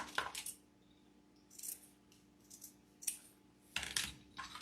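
Scissors snip through the wired ribbon tail of a handmade DIY bow, giving a few short, crisp cuts in quiet surroundings with pauses between them.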